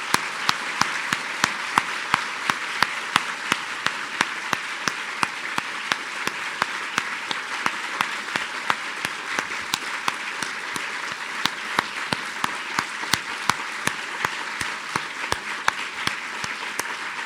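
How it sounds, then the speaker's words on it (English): Sustained audience applause for three mayoral candidates at a Lake Forest candidate forum, dense continuous clapping with sharp individual claps standing out near the microphone, steady and unbroken throughout. "A big round of applause for your 3 candidates."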